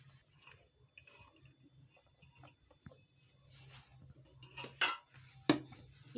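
Cooked rice is spooned in layers into a pot for parda biryani. A metal spoon scrapes and clinks against the pot in sparse, soft taps, with a few sharper clinks near the end and no talking.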